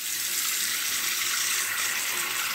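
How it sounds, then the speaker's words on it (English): Tap water runs steadily into a bathroom sink as a face is rinsed after a shave with Dollar Tree razor products, a continuous close hiss with small splashing changes and no talking. "I'm going to rinse up"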